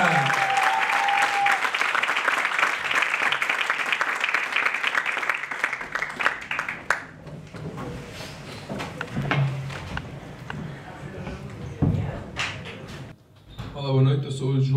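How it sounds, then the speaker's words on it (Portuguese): A stand-up comedy audience applauds comedian João Simões in a dense, sustained burst that fades after about six seconds, followed by someone talking with scattered stage thumps. "dar um salva de palmas para João Simões"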